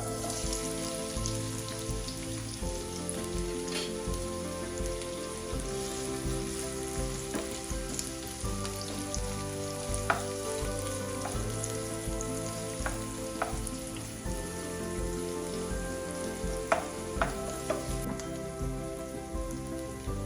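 Finely chopped onions frying in hot oil, a steady dense sizzle and crackle with scattered pops, close and continuous throughout, no talking.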